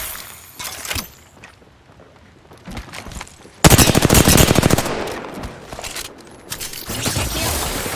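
Bursts of automatic gunfire in the video game Apex Legends, sparse shots early on, then loud rapid fire from about the midpoint with further volleys, and no talk.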